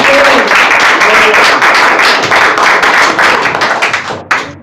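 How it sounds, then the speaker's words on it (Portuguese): Church congregation clapping in praise of Jesus, a loud, dense, steady wash of many hands filling the room, fading slightly near the end. "As palmas que louvam o Senhor Jesus."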